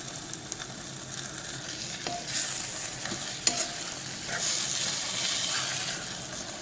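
A pan of kadai chicken curry bubbles and sizzles softly while a utensil stirs and scrapes now and then, with a few light clinks.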